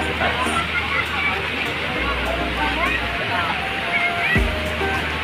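Steady roar of rushing water at Samariñana dam, muddy and swollen after rain, a broad continuous wash close by with crowd chatter and voices mixed underneath.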